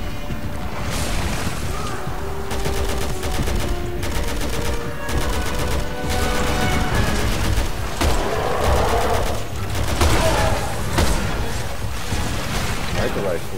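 Rifle gunfire in the Resident Evil 6 video game, sounding as repeated bursts of shots mixed with a tonal music bed, with a voice speaking at times.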